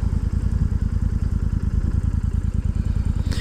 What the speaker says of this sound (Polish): Kolejnym plusem to jest piękny dźwięk silnika. ale szczególnie na tym akcesoryjnym wydechu Rino